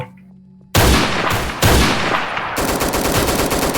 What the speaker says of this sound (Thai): โอ้โหปืนกล